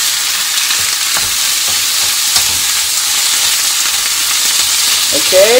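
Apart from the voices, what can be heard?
vegetables stir frying in a pan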